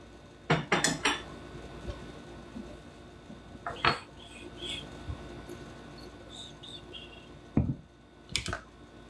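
Metal measuring spoons clink against each other in a few short bright bursts near the start, around four seconds and again near the end, with quiet kitchen room tone between them.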